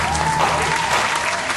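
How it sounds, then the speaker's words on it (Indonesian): A studio audience at a quiz show claps in loud, dense applause that holds steady throughout, with a faint tone running underneath. "Terima kasih tepuk tangan"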